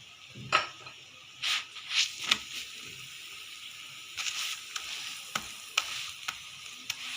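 A chicken paratha roll frying in oil in a pan, a continuous soft sizzle broken by sharp crackles and occasional scraping, close by with no talk.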